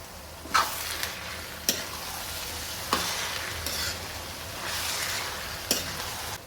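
Cashews, green chilies, garlic and onion frying in a pan, heard as a steady close sizzle with periodic scrapes and taps of a spoon stirring, without talk.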